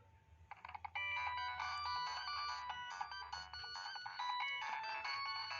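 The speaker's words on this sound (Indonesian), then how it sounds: "Nah ini ringtone-nya ya, tapi dia ringtone-nya tuh kayaknya agak putus-putus guys ya." A tinny, electronic ringtone from a Nokia 6016i phone plays a bright repeating melody, slightly broken and choppy, close up with a faint hum underneath.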